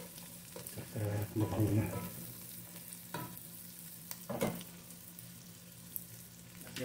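Onions sautéing in a pan give a soft, quiet sizzle with a few brief stirring scrapes, while a voice speaks briefly near the start.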